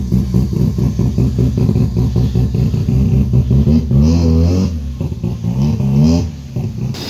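A 650hp Honda Integra engine fresh off a dyno run revs hard and loud at close range, with repeated rising and falling throttle blips and mechanical clatter throughout.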